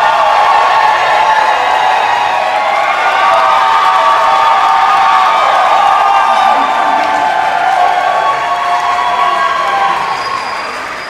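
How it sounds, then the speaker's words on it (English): An audience at a university honors recital applauds and cheers for the collaborating pianist, a loud, steady wash of clapping and whoops lasting throughout before tapering slightly at the end. "Can we please give a huge round of applause for the wonderful collaborator"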